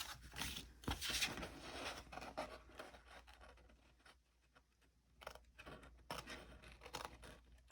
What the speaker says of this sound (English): I'm going to do scissors for this part.